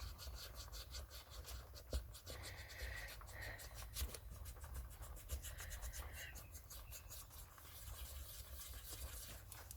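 A great big ball tool rubs over card to shape flower pieces for a half-fold easel card, making a faint, steady scratchy rubbing with small repeated strokes, close by and quiet throughout.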